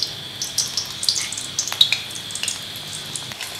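Small drops of boondi batter frying in hot ghee in a kadhai, a bright steady sizzle with sharp little pops and crackles, close and continuous with no talking.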